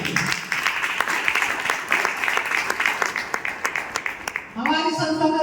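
Loud audience applause from a crowd at a business presentation, steady dense clapping for about four seconds before it cuts off and a voice starts talking.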